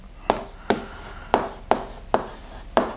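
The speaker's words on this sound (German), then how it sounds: "Also ich schreibe dann mal hier" Handwriting with a pen produces six sharp, evenly spaced scratching strokes, each a quick attack that fades, close and clear with almost no talk.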